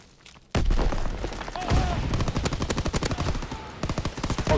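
Rapid video game gunfire that opens with a sudden loud blast, then runs as a steady automatic string of close shots in an even rhythm until the end.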